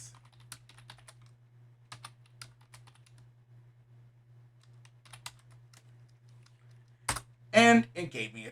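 Keys tapped on a TI-Nspire graphing calculator while entering an equation, sparse soft clicks scattered over a steady low hum, then a brief burst of a voice near the end.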